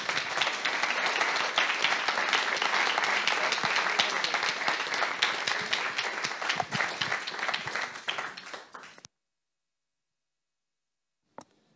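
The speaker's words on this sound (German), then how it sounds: "Einen Applaus bitte nochmal für Sie." An audience at a talk applauds a speaker, steady dense clapping for about nine seconds that thins and fades before stopping abruptly, followed by silence and a single faint tick.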